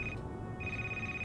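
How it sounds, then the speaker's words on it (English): A phone rings in the Christmas horror video game Crimson Snow with a clear, steady electronic ringtone tone that cuts out briefly and then resumes. It sits over a faint low hum, and no one speaks. "Why is your vibration so high that your phone is moving?"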